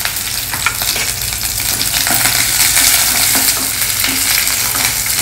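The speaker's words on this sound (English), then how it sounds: "Fry it till the dals are well roasted" Chana dal, ground nuts, dry red chilli, chopped green chilli and curry leaves crackle and sizzle steadily in hot oil in a pan, a dense continuous frying hiss with occasional stirring scrapes, loud and close.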